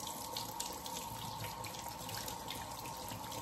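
Canned butter beans rinsed under a running kitchen tap, a steady close water stream splashing into a strainer and sink without pause, with no one talking.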